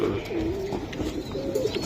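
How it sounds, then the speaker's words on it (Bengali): Racing pigeons coo softly in low, rolling calls, close by and repeating over a faint background hum. "রেস করা কবুতর আছে, ওই যে এক জোড়া কবুতর"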